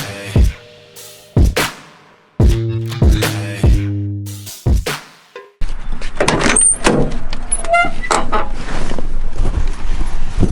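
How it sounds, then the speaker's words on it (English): Datsun 280Z doors being handled: several sharp solid thunks and latch clicks with short gaps between them, then a denser stretch of rustling and knocking close by. "I love the mechanical feel of the door. Yeah, that's a solid door"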